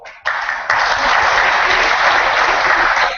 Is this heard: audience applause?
yes